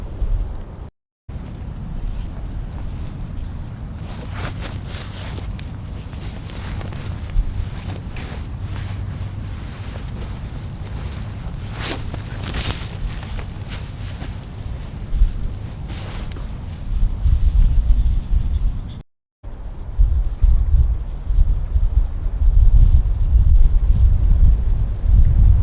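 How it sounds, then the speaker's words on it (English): Gusty wind blows beside a river, battering the microphone in loud, uneven roaring bursts that surge and ease over about twenty-five seconds, with deep low buffeting and no voices. "Winds are still very gusty"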